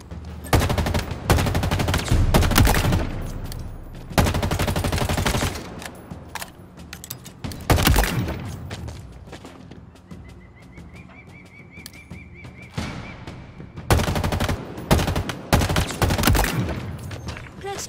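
Bursts of weapon gunfire at targets in Halo Infinite's Spartan Academy training, rapid repeated volleys and single shots separated by short pauses, loud and close.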